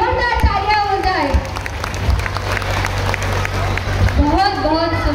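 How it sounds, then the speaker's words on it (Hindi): Loud, sustained applause and crowd noise from an audience at a school annual day celebration after a Tripura folk dance, with a voice speaking over the clapping at the start and end. "मगर आपकी तालियों में भी थोड़ा सा जोर होना चाहिए, जोरदार तालियां हो जाए।"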